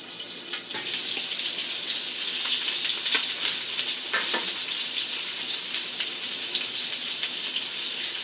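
Rib eye steak sizzling steadily in a hot pan, a loud continuous hiss and crackle with scattered pops throughout and no talk over it.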